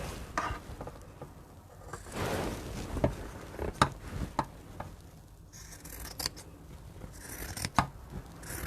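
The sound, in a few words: scissors cutting fabric near sewing line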